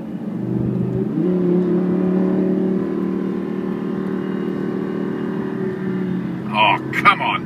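Lamborghini Superleggera accelerating on the road, a steady loud engine drone that rises in pitch as it pulls, heard from inside the car, with brief voices near the end.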